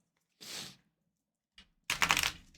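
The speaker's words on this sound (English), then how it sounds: "let's give them a good shuffle" A deck of Cosmic Energy Oracle cards is shuffled up close in two quick rustling bursts, a short one and then a longer, louder riffle, separated by near silence.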